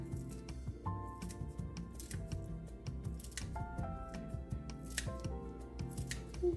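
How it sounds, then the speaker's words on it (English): Several quick snips of kitchen scissors cutting through chives, sounding close, with music playing steadily underneath. "My kitchen scissors."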